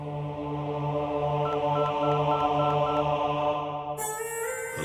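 A telephone is dialed, a series of short tones pulsing in a regular rhythm over a steady hum, ending in a sudden brighter burst.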